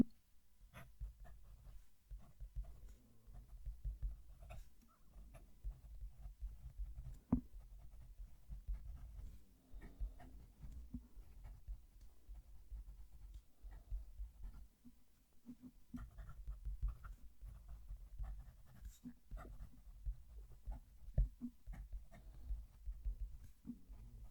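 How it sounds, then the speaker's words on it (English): A fountain pen with a stiff steel nib writes a sentence on paper, a faint close-up scratching with soft irregular strokes and small taps, recorded quietly with no talking. "Let's write a sentence."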